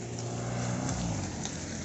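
Cars drive in and settle into parking during a City Day and Metallurgist Day celebration in Krasnouralsk, giving a steady, close, low engine rumble that holds at an even level for the whole stretch.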